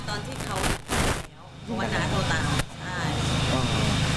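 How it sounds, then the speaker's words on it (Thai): A few sharp gunshots crack out over a steady background hum of traffic in Thailand, with muffled voices talking in Thai through much of the clip. "พี่โอ๋พอจะได้ยินยินเสียงปืนไหม"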